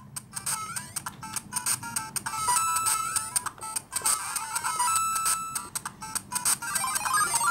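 Super Mario Bros game music playing on a GBA SP clone handheld: bright, beeping chiptune melody with steady rhythmic notes, fairly loud and continuous, with no talking.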